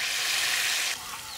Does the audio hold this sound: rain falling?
no